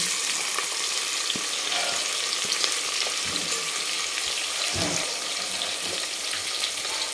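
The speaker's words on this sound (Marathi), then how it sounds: "हा एक मोठा कांदा आपण असा चिरून घेतलेला आहे उभा, हा आपण तळून घेऊ।" Sliced onion frying in oil in a pan, a steady loud sizzle throughout with a few faint utensil clinks, no talking.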